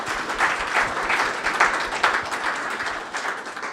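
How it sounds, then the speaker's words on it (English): Audience applause at a circular economy talk, a full room clapping steadily and fairly close for several seconds with no voices over it. "We give you a big applause too."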